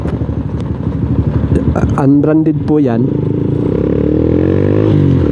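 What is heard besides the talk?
motorcycle riding on the road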